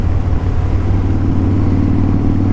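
Motorcycle engine chugging along in 5th gear while riding, a loud, close, low rumbling throb that stays steady throughout with no voices.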